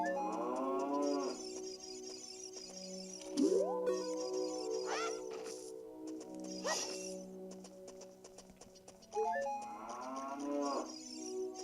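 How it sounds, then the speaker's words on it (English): Several drawn-out cow moos from the cow room of Zelda: Ocarina of Time 3D, loud and close, spaced across the clip over a steady hum of in-game background music. "Oh, this is the cow room."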